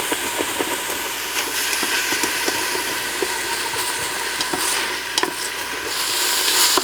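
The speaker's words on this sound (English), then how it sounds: "So now we'll saute these onions until they become tender and slightly translucent" Chopped onions sauteing in the stainless liner of an Instant Pot give a steady, close sizzle and hiss with scattered small crackles and spoon scrapes running throughout.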